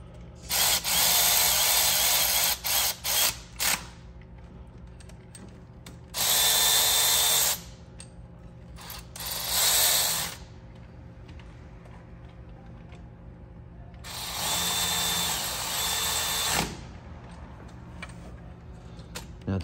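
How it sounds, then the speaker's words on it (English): Tightening 10 mm bolts on the water pump of a 2004 Beetle 2.0 L brings bursts of loud whirring from a power tool in several separate runs, with quieter gaps between them. "Now take your ratchet and go over them, snug them up a little bit."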